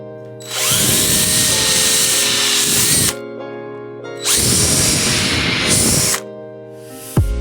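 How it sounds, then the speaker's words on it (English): A power drill whirs loudly in two sustained bursts of about two and a half seconds each, separated by a short pause. "So let's get drilling."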